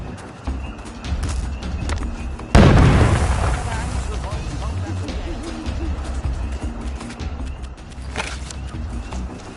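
A grenade explodes in the video game We Happy Few with a sudden loud boom, followed by a long rumbling tail under a noisy battle scene with shouting voices.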